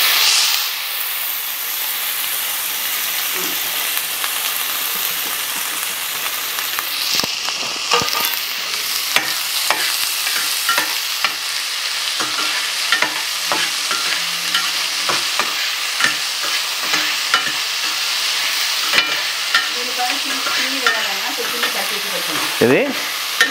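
Onions frying in a pan while being stirred, a steady loud sizzle with repeated scraping strokes of the spoon throughout, no talking.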